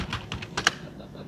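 Quick burst of typing on a computer keyboard to enter a search, several close, sharp key clicks in an uneven run lasting about a second.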